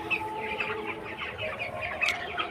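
Chickens cluck and murmur together inside a poultry shed with clean litter, a steady, busy chorus of many birds at close range with occasional sharper calls, no talking.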